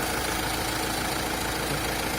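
A 2019 Opel Movano van engine with about 65,000 km on it idles steadily, a continuous loud, even mechanical drone with a slight knocking texture and no voices.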